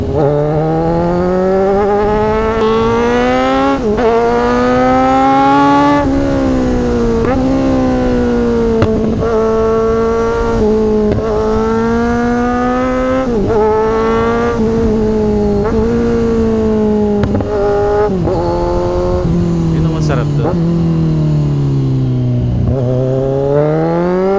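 A Kawasaki Z1000 big bike's engine pulls hard on an open road, revving up through repeated rising sweeps with gear changes between them, loud and close throughout, no talk.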